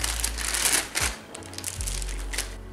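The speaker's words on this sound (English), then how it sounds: "now I'm going to take the tripod out of the plastic bag." A tripod is pulled out of a plastic bag with loud, close crinkling and rustling of the plastic in uneven bursts, plus a couple of low thumps as it comes free; no one speaks.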